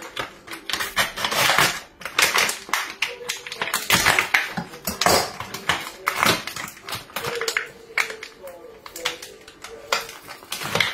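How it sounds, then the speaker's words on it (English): A knife chops bacon on a board in quick, irregular bursts of sharp taps, loud and close, with brief pauses between runs. "chop the bacon up and fry it off"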